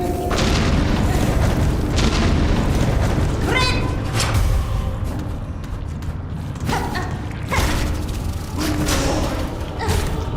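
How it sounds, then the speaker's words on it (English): Exploding bugs bursting in Hollow Knight: Silksong, several dull booming pops at irregular intervals over a steady layer of game music and ambience. "Fucking explodey bugs."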